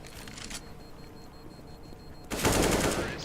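AK rifle fire in a CS:GO match, a short burst of rapid shots near the start and a louder, denser burst later on.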